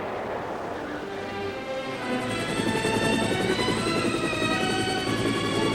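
Steady rotor drone of a Marine military helicopter, with a rhythmic thumping chop and broadband whoosh, growing a bit louder after a couple of seconds, with no talk.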